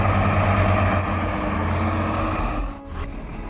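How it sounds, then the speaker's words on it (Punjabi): A tractor pulling a trolley rumbles steadily nearby, then fades as it pulls away, with a brief dip toward the end. "ਚਲੇ ਗਿਆ ਟਰੈਕਟਰ ਟਰਾਲੀ ਕਢਾ ਕੇ"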